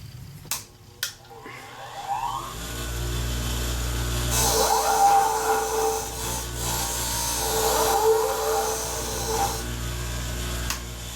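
A polishing wheel buffs a small metal part from an Andis AGC Super 2-speed hair clipper under repair, a steady whirring hum with rising and falling grinding scrapes as the part is pressed against the wheel, close and fairly loud, no talk.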